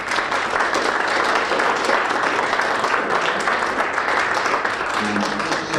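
A full round of applause at a Formula BOSS Ireland motorsport awards dinner, a thick, continuous roar of clapping from a large indoor crowd, loud and steady from start to finish.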